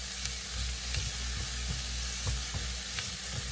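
Garlic sizzles in a pan while cooking keto Chinese-style rice, a steady close frying hiss with faint stirring clicks throughout and no talking.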